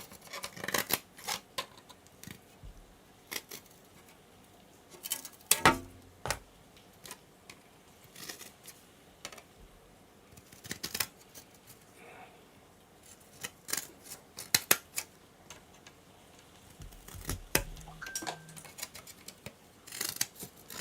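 Snipping gold pins off electronic circuit boards with cutters, sharp crisp clicks and snaps at irregular intervals, some in quick pairs, close and fairly quiet with a faint rustle between cuts.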